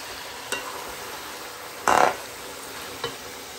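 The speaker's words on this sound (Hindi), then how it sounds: "चिकन को ड्राई फ्राई होने तक इसको हम फ्राई कर लेंगे" Chicken stir-fried in a pan until dry for Qabili pulao: a soft, steady sizzle broken by a few short scraping bursts of the spoon, with no voices.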